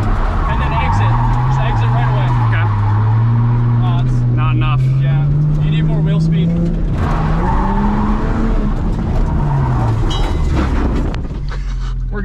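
A car drifting with a novice driver doing donuts and figure eights, engine droning steadily with rising and falling revs and tire noise throughout, while people talk over it.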